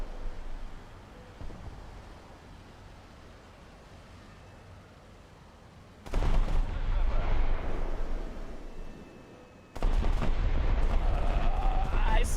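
In War Thunder, bombs dropped from a plane go off in two heavy, booming blasts after a stretch of low engine rumble. Each blast is sudden and loud and leaves a long roaring wash behind it.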